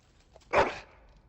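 A dog in the Dragon Age: Origins video game lets out a single short, close whimpering bark, with quiet game ambience around it.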